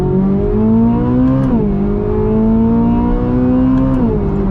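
A 2023 Corvette Z06's race-derived engine revs hard under acceleration, a loud, sustained howl that rises steadily, dips briefly at a gear change, climbs again and drops once more near the end, with no talk over it.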